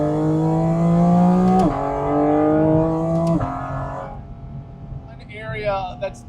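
A sports car engine accelerating on the street, revving up through the gears with rising whine and two sharp shift drops, loud and close before fading away; a voice speaks near the end.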